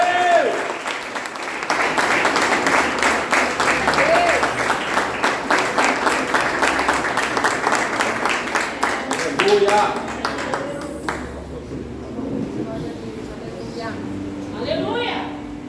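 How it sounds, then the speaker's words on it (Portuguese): A church congregation applauds loudly during a worship service, sustained hand clapping with a rhythmic edge and raised voices, then the clapping stops and a voice continues over faint crowd murmur. "Aplauda o Senhor bem forte, em nome de Jesus."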